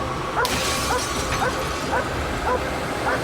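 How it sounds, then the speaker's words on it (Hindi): A dog barks repeatedly at a car in a steady run of sharp, close barks, with voices talking alongside. "सेज इस कार पर भौंक रही है"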